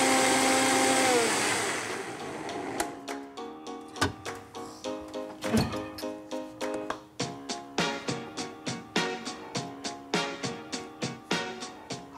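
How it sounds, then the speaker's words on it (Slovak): An electric hand mixer whirs loudly for about two seconds while blending quark, yogurt, birch sugar and eggs into a cheesecake cream. A long series of sharp clicks and taps follows, with no talking. "Teraz si za pomoci mixera pripravíme krém."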